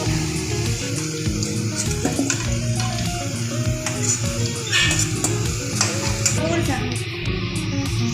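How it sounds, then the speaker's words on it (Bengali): Potatoes frying in hot oil are lifted out while mutton curry is cooked, giving a steady close sizzle with stirring and scraping against the pan, under a tonal background melody. "এবার আমি আলুটাকে তুলে নিচ্ছি"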